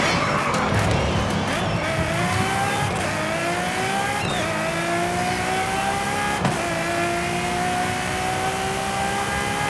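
A 2015 Ferrari F12TDF with a naturally aspirated 6.3-liter V12, driven in the racing game Forza Horizon 5, revs hard and climbs through gears with rising engine whine and brief dips at shifts, loud and continuous for the whole span.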